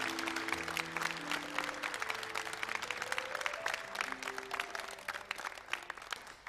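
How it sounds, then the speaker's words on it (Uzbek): A studio audience applauds at the close of a girls' poetry contest on a Women's Day television show, brisk, dense clapping throughout while sustained musical tones play underneath. "Qizlarimizning she'riy bahsini qarsak bilan tugatdik."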